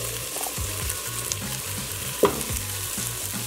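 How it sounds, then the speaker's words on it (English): Onions and jalapeños frying in a pan for a red chili and cheddar quesadilla: a steady, close, dense sizzle throughout, with one sharp clank of a utensil midway. "Now I'm gonna put those onions and jalapenos in there."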